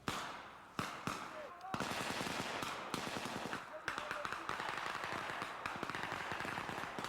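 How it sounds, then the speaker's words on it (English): Simulated enemy fire in an airborne pre-ranger army training exercise, heard as rapid, continuous crackling bursts of blank gunfire, mid-distance and sustained, with a few sharper isolated shots at the start and a narrator speaking over it. "the airborne soldiers in pre-ranger school are out on a simulated scouting mission where they encounter enemy fire"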